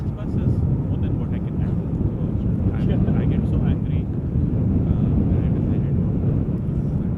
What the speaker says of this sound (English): often those Ryanairs can get very loud, so let's look and listen. They often use their reversers, has the potential to get loud.